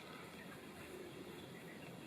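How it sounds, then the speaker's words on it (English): A continuous faint rush of water flowing out of a spring on a forest trail, steady and even throughout, with no voices. "you can hear the water coming out."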